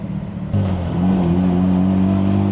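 A Mazda RX-7 rotary engine drones inside the car on a real road, a low steady tone that jumps up and holds a rising buzzy pitch after a brief shift, loud and close.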